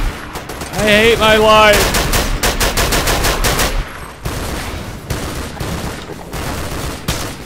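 Enemy gunfire crackles in Half-Life 2 Episode One: rapid machine-gun bursts and single shots ring out close and loud in repeated volleys across the whole stretch, while a player's voice talks over the opening.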